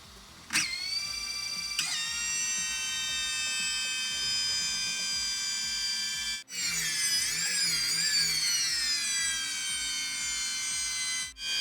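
Motors of a DJI FPV drone spin up without propellers fitted, a loud high-pitched electric whine with steady harmonic tones that shift and warble in pitch, briefly dropping out twice, close by with no talking.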